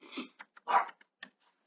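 Dogs outdoors in freezing cold give a few short, close whimpers and soft vocal bursts in quick succession, with quiet gaps between them.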